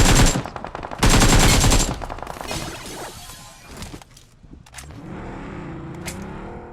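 Gunfire in the mobile battle royale game BGMI: loud bursts of rapid automatic fire up front, then scattered single shots and game vehicle noise trailing off.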